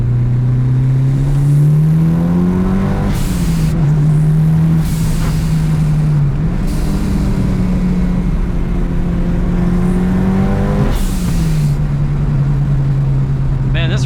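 Turbocharged 4G63 four-cylinder in a Mitsubishi Evo 6 pulling hard through the gears, engine note rising then dropping at each shift with sharp turbo blow-off bursts, loud and close inside the car.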